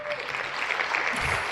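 Steady clapping from an audience at a family gathering fills the whole stretch, a dense even patter of hands with a faint voice near the start.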